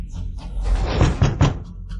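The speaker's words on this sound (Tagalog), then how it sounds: "Katok." Knocking on a door in an indoor scene, a few dull, close thuds in quick succession with no one speaking.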